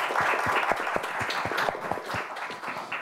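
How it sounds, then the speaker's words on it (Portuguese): An audience at an economic liberty forum applauds Professor Vicente, with scattered claps over a steady, moderately loud patter for three seconds and no talking. "Peço uma salva de palmas, professor Vicente."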